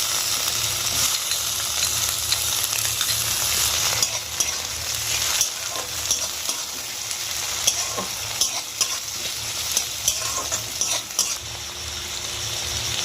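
Onions frying in oil with chopped tomato for potato biryani, a steady close sizzle with occasional scraping and stirring clicks from a spoon in the pan.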